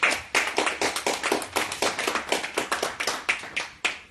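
A church congregation claps together in a steady, brisk rhythm, many hands striking in sharp repeated bursts that fill the room without any talking.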